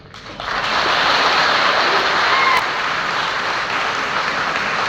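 Audience applause at a public education talk in Dharwad, a dense sustained wash of clapping from a large crowd that swells in quickly and holds steady, loud and close, with no speech over it.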